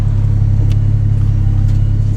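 Car with a 400 hp Barra engine and short-ratio limited-slip differential pulling away from a stop, a steady loud low engine drone heard from inside the cabin with no talking.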